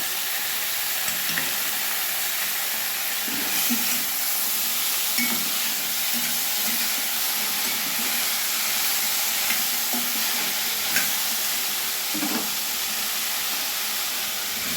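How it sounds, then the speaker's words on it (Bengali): Chilli, garlic and tomato fry in a pan with a steady, dense sizzle and hiss throughout, with occasional soft stirring scrapes and knocks against the pan. "এবারে আমি লঙ্কা আর রসুনটা দিয়ে দিলাম, টমেটো দিয়ে দিলাম"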